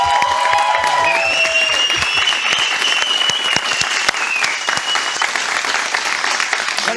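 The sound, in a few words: applause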